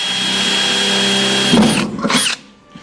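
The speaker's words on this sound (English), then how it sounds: "You only get one shot to drill a hole." Power drill boring holes into the steel body of a 1936 Ford during a top chop, a steady close whine for about a second and a half, then a couple of short bursts as the bit bites and stops.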